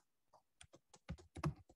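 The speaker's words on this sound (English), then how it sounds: "Just started typing whatever." Computer keyboard typing while plotting sine and cosine functions in Maxima software, a burst of separate clicky keystrokes in an irregular rhythm, close and fairly quiet.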